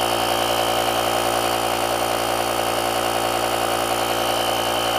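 The built-in air compressor of a JF.EGWO 3000A car jump starter inflates a car tire with a steady, loud mechanical drone and buzz that never changes in pitch or level, heard alone and close up.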